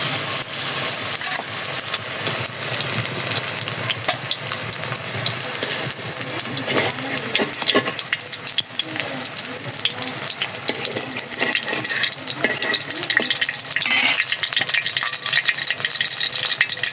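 Mixed vegetable fritters sizzle loudly in hot oil, a continuous crackling fry with occasional stirring and scraping close by.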